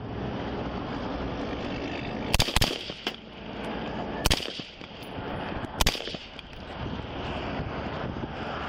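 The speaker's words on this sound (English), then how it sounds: "Shots fired, he grabbed the gun," Gunshots fired during a police confrontation on an interstate highway: three sharp, loud broadband cracks spaced over a few seconds, heard over steady wind and traffic noise.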